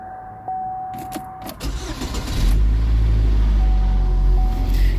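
A starter motor whirs briefly before the engine of a 2012 Chevy Equinox catches and roars into a loud, steady idle nearby, just after an engine install and exhaust replacement.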